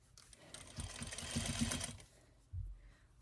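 A sewing machine runs a short, steady burst of stitching on a bumble bee dress, a soft whirring hum that stops and is followed by a faint thump.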